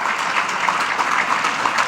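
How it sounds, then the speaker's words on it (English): Steady applause from a summit audience honouring a guest with a round of clapping, a dense even patter filling the whole two seconds. "Could you stand, Lady Mitchum, as we give her a round of applause."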